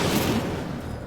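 Incendio fire spell cast in Hogwarts Legacy, a brief loud whooshing burst of roaring flame that holds steady then thins out over about a second.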